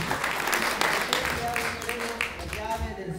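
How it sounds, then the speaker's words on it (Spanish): A crowd at a community insignia-changing ceremony in El Sitio applauds for the auxiliary mayor, a continuous rattle of clapping with a voice speaking over it. "Que vengan esos aplausos, por favor, como muestra de apoyo hacia el señor alcalde auxiliar."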